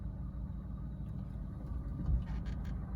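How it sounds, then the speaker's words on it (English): A Ford Fiesta's Zetec engine idles with a low, steady rumble, close and fairly quiet, with faint ticks and clicks near the end. "I'll turn the heating off so that you can hear just the engine running"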